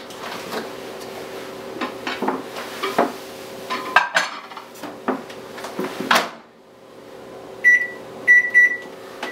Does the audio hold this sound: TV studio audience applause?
no